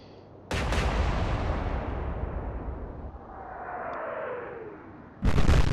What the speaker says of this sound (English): Okay, something big exploded. Probably some of the secondary AA battery.